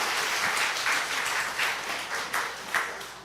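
Audience applause at a church health talk on laughter therapy, dense steady clapping from a crowd filling the whole stretch, fairly loud and close, with a few sharper claps near the end.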